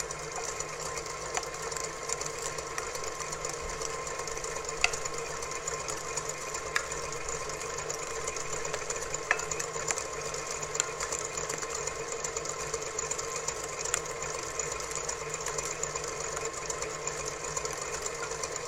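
An electric mixer whisks sugar, unsweetened cocoa powder and cornstarch for chocolate chip mint cookies, giving a steady, even motor whir that runs unbroken throughout with no talking.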